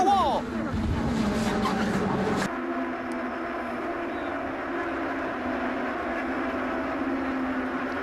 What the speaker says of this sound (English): Spin. Going into the wall.